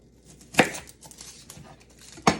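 Two sharp knife chops through a quarter of a red onion on a cutting board, one near the start and one at the end, with quiet kitchen handling in between.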